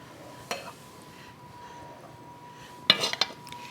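Utensils serving one-pot tortellini bake with creamy sauce into a bowl, two sharp clinks of metal on dishware against a quiet sizzling background, the second louder and rattling briefly.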